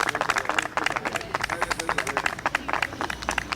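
A crowd at a community gathering breaks into acclamations, with dense rhythmic clapping and cheering voices filling the space continuously and fairly loudly.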